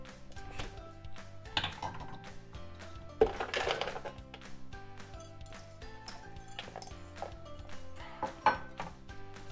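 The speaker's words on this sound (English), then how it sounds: "We're gonna put this in the blender and add 1 diced apple." Clinks and knocks of diced apple pieces dropped into a blender jar, a scattered series of light hard taps and rattles close up, with faint background noise.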